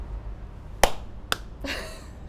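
Two sharp, isolated hand claps ring out about half a second apart in a quiet room, followed by a soft breathy rustle.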